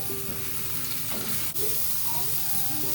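Sliced mushrooms frying in oil in a pan, seasoned with pepper and salt, give a steady close sizzle with light stirring scrapes and clinks throughout.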